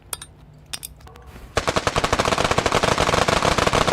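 Rapid gunfire erupts in Noita, a pixel-simulation game: a few scattered shots, then a sustained loud burst of fast repeating blasts, close and dense with no voice over it.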